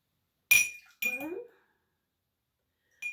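A metal spoon clinks against a glass bottle as alcohol is measured in, giving two bright, close taps about half a second apart and then a faint third tap after a pause.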